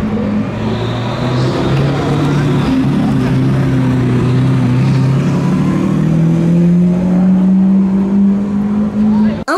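Lamborghini Centenario supercar at a Supercar Sunday car meet, its engine droning and rising in pitch as it revs and accelerates nearby, with people talking over it.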